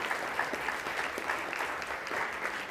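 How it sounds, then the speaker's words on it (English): Steady applause from a keynote audience at a scholarship event, a continuous even patter of clapping hands at moderate volume, with no voices over it. "Let's give them a nice round of applause."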